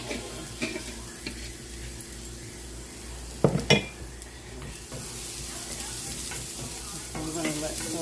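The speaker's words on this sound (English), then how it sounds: "I'm going to let those onions cook for just a few minutes." Onions sizzle steadily in a pan while zucchini boats are being made, a continuous frying hiss with a few stirring clinks and a sharp utensil scrape midway.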